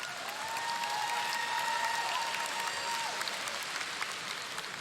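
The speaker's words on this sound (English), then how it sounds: "Another round of applause for Tom and his inspiring speech about embedding governance into our structures." Soft, distant applause from an audience at a YMCA closing ceremony rolls on evenly at a low level, with a faint sustained whistling tone running through the first part.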